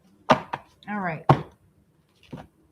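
A few sharp, crisp riffle bursts of tarot cards being shuffled, close up, separated by short pauses, with a brief voice in between.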